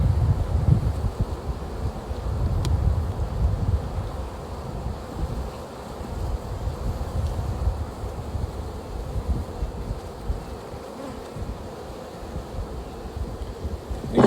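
A large bee colony in a big hive, agitated after being removed, drones in a dense, continuous low buzz with faint rustle and a little wind noise, steady throughout.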